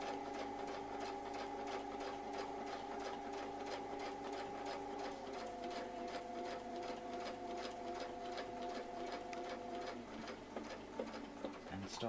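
Sewing machine stitching stamens onto fabric with a steady, rapid needle rhythm throughout, close and even, slowing and thinning out near the end.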